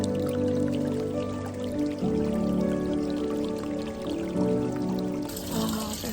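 Water flows and trickles steadily at Niagara, a continuous wash of moderate loudness under some tonal background hum.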